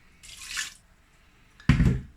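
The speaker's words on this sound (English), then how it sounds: "I'm just gonna use that cup of water to rinse my blender" A cup of water swirled through a blender and poured into a cooking pot while making a vegan sweet chili sauce, heard as a short splashy rinse and then a louder gush of pouring water.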